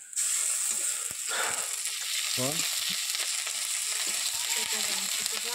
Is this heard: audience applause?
no